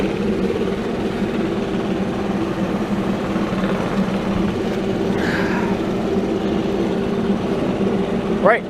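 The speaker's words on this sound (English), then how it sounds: "You gotta love these 4-mix blowers." A 4-mix leaf blower engine runs continuously, a steady mid-pitched drone that holds at one level throughout, near and fairly loud with no talk over it.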